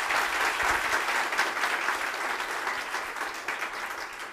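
A crowd applauds steadily at a community meeting in Agboville, Côte d'Ivoire, a dense patter of many hands clapping that holds at an even level throughout.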